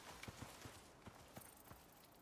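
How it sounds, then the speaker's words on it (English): Horse hooves clip-clop in the Icarus survival video game, a handful of soft, uneven steps at moderate distance over a quiet ambient background, with no talking. "When you hear the horse sounds, it's already too late."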